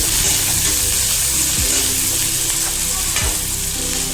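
Sliced onion and chili sizzle steadily in hot oil in a wok for an Assamese pork curry, with two brief scraping stirs of a utensil against the pan; close, continuous and fairly loud, with no talking.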